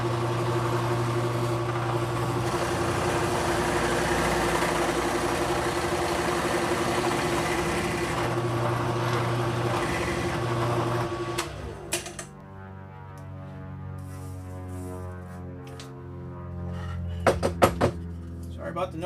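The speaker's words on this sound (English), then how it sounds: "Sorry about the noise, there's a plane going by." Airplane passing overhead near an airport, a steady broad roar with a low drone sustained for about eleven seconds before fading, after which softer tonal sounds and a few sharp clicks follow.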